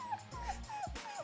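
A person imitates a small puppy's whimper, a quick series of four high, falling whines, close and fairly quiet.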